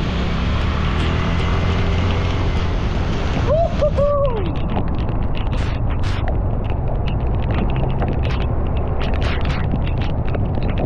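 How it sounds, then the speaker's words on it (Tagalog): Heavy rain pours steadily onto surfaces nearby, a dense constant hiss throughout, while a person lets out a brief whooping cry partway through and other voices are faint in the background. "Ay, lakas ng ulan!"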